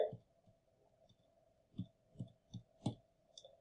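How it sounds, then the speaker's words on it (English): Plastic calculator keys tapped in a short irregular series of soft clicks, close and quiet, with no talking. "I am just going to type that into my calculator"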